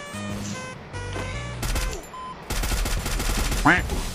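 Rapid bursts of gunfire from a shooter video game, with short loud volleys and sharp shots crackling over game effects, while a player talks over the action.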